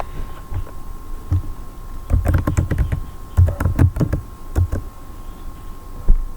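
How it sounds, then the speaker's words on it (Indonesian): Bursts of quick keystrokes on a computer keyboard while entering a router command, clustered clicks in uneven runs with short pauses, close and clear with no talking. "lalu kita ketikkan perintahnya di sini"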